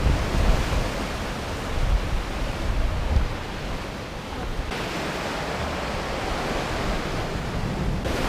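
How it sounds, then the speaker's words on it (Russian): Strong seaside wind on the coast of Cyprus near Ayia Napa roars steadily into the microphone, a loud, continuous broadband rush with surf mixed underneath. "Ветерочек прям дует, не то что подувает, а прям дует."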